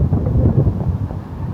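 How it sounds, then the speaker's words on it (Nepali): Cold wind gusting across an outdoor spot, a dense low buffeting roar against the microphone, steady and close with no talking. "कस्तो चिसो हावा चलिरहेको"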